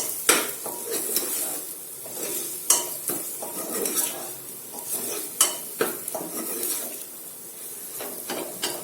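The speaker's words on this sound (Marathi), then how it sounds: "त्याला छान मिक्स करू" Dal and ridge gourd stirred with turmeric and chilli powder in a pan, a spoon scraping and clinking against the metal in an irregular rhythm with sharp clacks over a soft sizzle, close and moderately loud, no talking.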